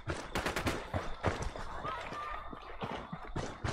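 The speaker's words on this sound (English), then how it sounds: "Opening fire." Rapid bursts of gunfire in the video game Tom Clancy's Ghost Recon Wildlands, loud, sharp shots crackling in quick succession for several seconds, with speech in the background.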